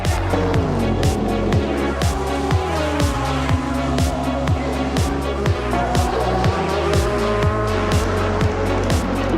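Race cars at the 2013 Le Mans 24 Hours, a loud continuous engine roar with repeated gear-shift drops and high revving, several cars howling past close by in a steady rhythm.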